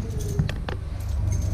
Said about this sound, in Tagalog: Ito na yung susi ko.